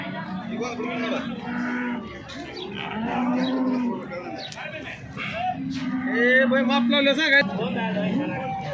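Several cows moo repeatedly at a cattle sale, long low calls overlapping one another, with people talking in the background.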